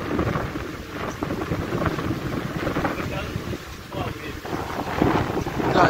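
Strong wind buffets a sailboat at sea, a dense, steady roar of wind noise and rushing water that stays loud throughout.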